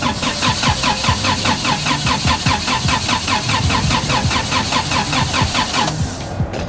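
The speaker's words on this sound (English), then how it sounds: "And the truck won't start now." A truck engine cranks repeatedly without catching in a snowy parking lot, the starter churning in a fast, even rhythm for about six seconds before cutting off, loud and close with no talking.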